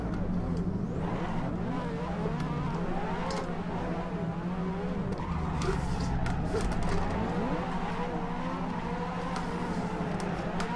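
Car engine droning and revving steadily while drifting in the racing game Assetto Corsa, a continuous whine with tire and brake noise; a person talks over it at times.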